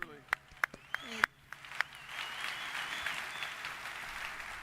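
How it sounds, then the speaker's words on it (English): A conference crowd breaks into applause for a U.S. senator after a few sharp, separate claps, building into a softer, distant wash of clapping that continues to the end, with speech heard at the start. "Let's give her a round of applause."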